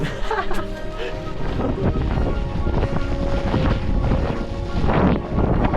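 Strong wind blowing snow buffets the microphone in a constant heavy roar on a mountain climb, with faint voices in the background.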